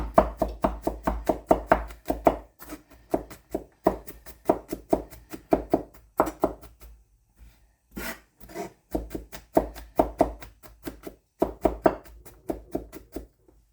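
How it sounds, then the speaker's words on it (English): Knife mincing garlic on a cutting board while a pan with olive oil heats, a fast run of close, crisp chopping taps in steady bursts with brief pauses between them. "You're just going to mince your garlic."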